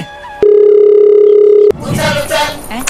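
A steady telephone dial tone sounds loudly and alone for about a second after a call is cut, followed by people talking.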